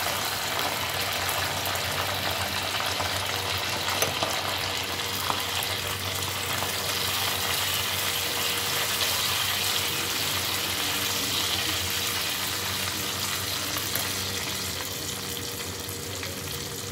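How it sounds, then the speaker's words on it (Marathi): Curry leaves hit hot oil with popping mustard seeds, giving a loud, steady crackling sizzle that holds evenly throughout and eases slightly at the end. "आता राई आपली तरतरलेली आहे, तर आता आपण हा कढीपत्ता टाकून देऊया।"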